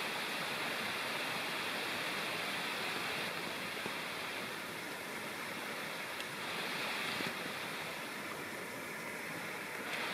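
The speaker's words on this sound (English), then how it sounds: "There's a beautiful little side stream to Flint Creek and a waterfall coming down," Small waterfall on a side stream of Flint Creek, a steady, dense rushing wash of falling water that fills the whole stretch at an even level with no other sounds.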